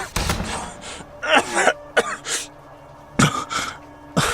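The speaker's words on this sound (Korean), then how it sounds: "헛기침을 연신 내뱉으며 안으로 들어왔다." A woman coughs and clears her throat repeatedly after drinking salty rainwater in a horror drama, several harsh bursts in uneven succession, close and loud, with short pauses between.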